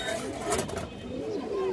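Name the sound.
pigeons cooing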